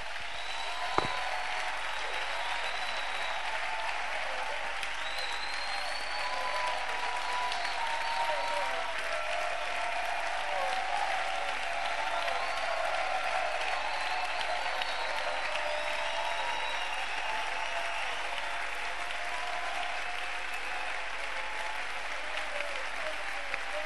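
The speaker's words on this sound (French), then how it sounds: "Célèbre-le pendant quelques secondes d'acclamation" Congregation at a church service applauding and cheering, a dense continuous wash of clapping and voices held at steady loudness throughout, with a sharp knock near the start.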